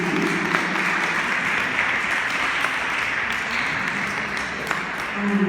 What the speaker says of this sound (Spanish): Yo quiero que usted le dé un fuerte aplauso al Espíritu Santo